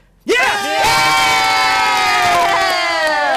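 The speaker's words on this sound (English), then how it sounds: "Come on. All right, cheer on, everyone. Cheer on." A group of players at a tabletop Dungeons & Dragons session breaks into loud, sustained cheering and yelling for a dice roll, the shouting rising suddenly after near silence and holding strong for several seconds.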